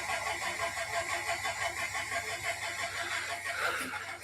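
Engine being cranked over with the starter and choke, catching and running in a steady, fairly loud rumble that continues for the whole stretch with no talking.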